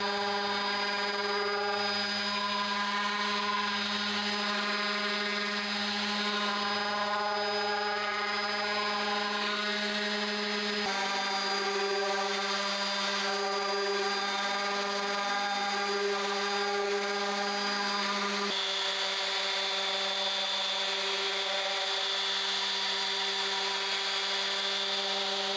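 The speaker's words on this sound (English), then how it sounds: "I have sanded it back." A power sander works a redwood guitar body, giving a steady, faint droning whine with stable tonal hum that shifts slightly in pitch a couple of times, continuous throughout with no voices.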